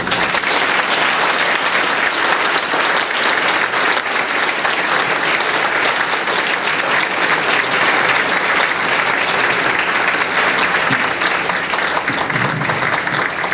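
Standing applause fills a hall at a medical annual gala after a speech, a dense steady wash of many hands clapping at constant loudness throughout, with no voices standing out.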